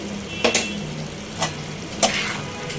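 Chicken bones being stirred with garam masala and cumin powder in a pan, steady low sizzle with a few sharp spoon scrapes against the metal, close and alone.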